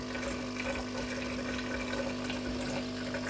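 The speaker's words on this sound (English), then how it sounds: "It's running the clean water through now," A Delonghi Magnifica coffee machine pumps clean water through during descaling, giving a steady, loud whirring hum with a constant tone and no breaks.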